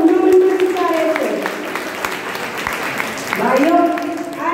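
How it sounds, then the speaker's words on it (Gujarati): An audience claps steadily at a Women's Day gathering in a commerce college hall, a loud, continuous wash of applause with voices speaking and calling out over it. "તો ભાઈઓ માટે ખાસ તાળી"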